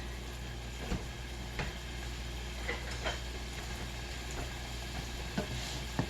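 Onions, garlic and bell pepper stirred with a spoon in a pan, a steady soft sizzle with a few scraping clicks of the spoon at irregular intervals throughout.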